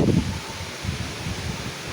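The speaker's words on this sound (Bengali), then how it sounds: "পরিমাণে বাতাস শুরু হয়েছে" Wind gusting through trees ahead of an approaching storm, a steady rustling roar with a stronger gust at the start, near and alone with no talk.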